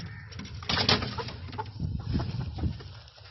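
Hens clucking and murmuring close by, a low busy cackle with a brief louder squawk near the start, continuing steadily throughout.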